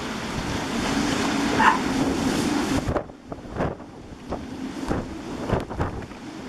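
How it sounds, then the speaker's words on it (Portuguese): Strong typhoon wind of 30 to 35 knots roars steadily at sea off Micronesia, heard from aboard a boat. After a few seconds the wind noise eases, and the rushing, breaking ocean waves come through in surges. "E agora o vento tá aí, 30, 35 nós. Essas ondas."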